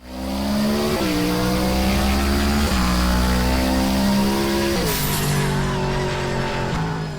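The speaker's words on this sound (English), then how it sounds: "This thing has some crazy turbo flutter sounds" Turbocharged custom car in the Roblox racing game Midnight Chasers, its engine droning loud and steady through repeated gear shifts, with a sharp chattering turbo flutter as the revs drop, continuous and close without any voices.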